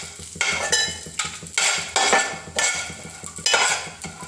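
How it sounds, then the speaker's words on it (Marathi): Chana dal roasting in a little oil in a pan, stirred with a spoon in repeated scraping strokes over a soft background sizzle, close and fairly loud. "1-2 चमचे तेल घालून फुटाण्याची डाळ रोस्ट करते."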